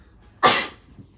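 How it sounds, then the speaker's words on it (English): A single sharp sneeze bursts out close and loud, then fades into quiet room tone, heard alone during a tile-drawing session. "I know, I'm just sneezing"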